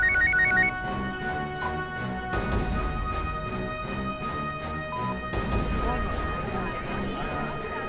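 A mobile phone ringtone plays in a courtroom scene, a steady repeating electronic melody with rhythmic tones running throughout, fairly loud and continuous.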